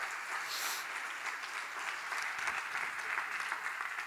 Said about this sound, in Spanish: Aplaude al Rey de Gloria.